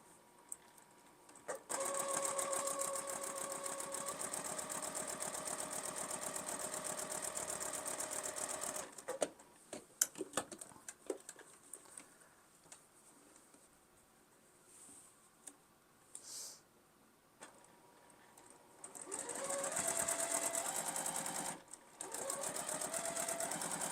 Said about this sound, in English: stitch 1/4 inch away from that line